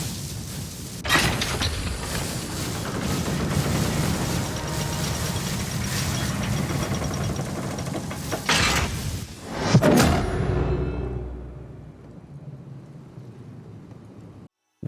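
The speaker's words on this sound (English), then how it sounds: "My favorite sound that I've created in Call of Duty was the vault door." A huge vault door from a Call of Duty Easter egg grinds open with heavy mechanical creaks and a deep boom partway through, then settles into a fading low rumble before silence.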